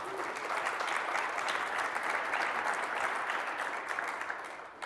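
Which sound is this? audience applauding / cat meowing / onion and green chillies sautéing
audience applauding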